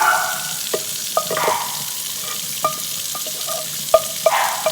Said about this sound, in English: I'm going to pour the meat in there too